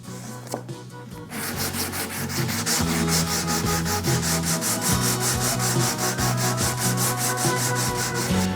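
A wooden bevel veneer on a guitar arm bevel being sanded down along its top edge, with steady close-up rubbing strokes in a quick, even rhythm after a short quieter start.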